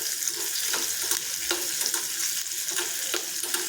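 Mustard seeds, asafoetida and green chilli crackling in hot oil, a continuous close sizzle with scattered sharp pops and a few spoon stirs.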